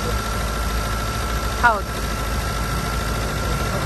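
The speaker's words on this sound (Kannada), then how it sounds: "ಇವಾಗ ಇಂಜಿನ್ ಸೌಂಡ್ ಒಂದು ಇದು ತಗೊಳ್ಳಿ, ಹೇಗಿದೆ ಸೌಂಡ್ ಅಂತ." A vehicle engine idles steadily in a close, low continuous drone, with a brief voice and a short chirping noise midway.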